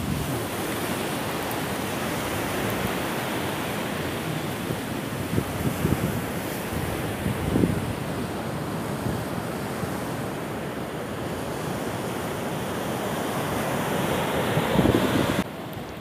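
Sea waves wash onto a white-sand beach in La Union, a steady surf roar mixed with wind buffeting the microphone, with a few soft swells and rumbles over sixteen seconds and no talking.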